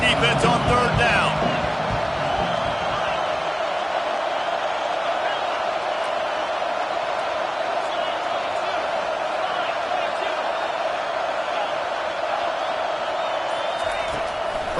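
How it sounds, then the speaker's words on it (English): Stadium crowd noise in an NCAA college football video game on third down, a steady dense roar that holds level throughout, with faint commentary-like voices mixed underneath. "Decibels rising as the crowd gets behind this defense on 3rd down."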